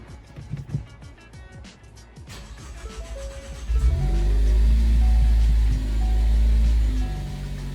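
After an Accessport tune is installed, a Ford Focus ST engine cranks and fires into a loud, deep idle close by, following some faint clicks and rustling.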